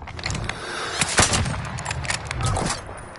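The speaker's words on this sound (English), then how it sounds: "This is an airstrike." A Call of Duty Warzone airstrike sounds as a rapid cluster of sharp explosive bangs and crackling blasts, fairly close and clustered within a few seconds.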